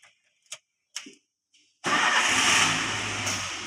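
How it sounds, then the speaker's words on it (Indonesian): A car engine starting during a lift service check: a few sharp clicks and ticks in near silence, then the engine catches and settles into a loud, steady idle close by. "Kita hidupkan mesinnya."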